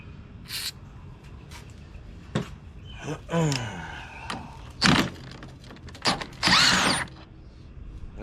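Standard socket wrench working a bolt off a John Deere LA105 riding lawn mower, with scattered metallic clicks, clanks and ratcheting bursts at close range amid brief handling noises.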